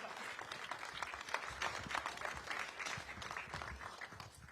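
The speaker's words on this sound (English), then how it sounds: "But how about one more round of applause" Applause from an audience at a live political speech event on domestic policy, a dense steady wash of clapping that holds for several seconds at moderate loudness, with faint voices mixed in.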